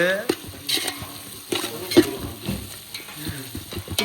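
Ginger-garlic paste sizzles in a pot as it is stirred, for a village-style chicken biryani, with steady frying hiss and repeated scraping strokes close by, no talking.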